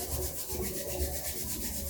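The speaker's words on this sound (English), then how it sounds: "you rub your hands together" A pair of hands rubbed briskly together, a close, soft, continuous swishing friction with a steady back-and-forth rhythm, alone with no talking.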